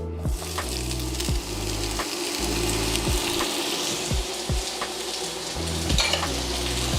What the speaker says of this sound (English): we're gonna start off by putting our onions in